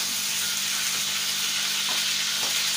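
Chicken sizzles and fries steadily in a hot pan, a continuous close hiss with faint stirring scrapes and no talking.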